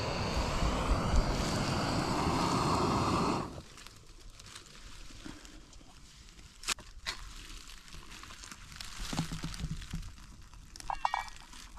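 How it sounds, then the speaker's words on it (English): A camp stove heating water at a campsite in the Catskill Mountains gives a loud, steady roaring hiss for a few seconds. It then cuts off abruptly, leaving quiet outdoor ambience with scattered small clinks and rustles. "It looks like we got water coming to a boil."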